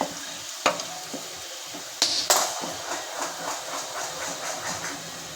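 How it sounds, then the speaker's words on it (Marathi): Onion and garlic frying in a pan for a homemade pizza sauce, a soft steady sizzle with a few sharp scrapes and clatters of the spoon near the start. "कांदा पण आपल्याला छान लाल होईपर्यंत भाजून घ्यायचा आहे"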